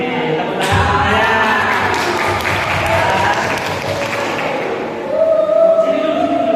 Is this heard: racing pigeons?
no